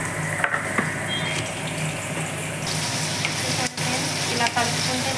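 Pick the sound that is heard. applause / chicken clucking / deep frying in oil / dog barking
deep frying in oil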